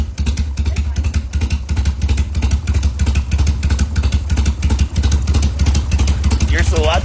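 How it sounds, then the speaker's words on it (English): A Harley FXR motorcycle engine runs after a carburetor rebuild, a loud, steady, lumpy idle with rhythmic pulsing exhaust thumps throughout, and a person speaks over it near the end. "I'm just really excited I got my FXR started. She's a runner."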